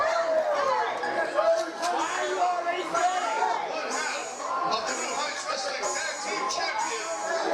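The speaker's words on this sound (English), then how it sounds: "Crowd eagerly anticipating this." Loud, dense crowd chatter and cheering fills a pro wrestling arena as fans await a wrestler's entrance through the curtain, steady babble without pause and voices overlapping close by.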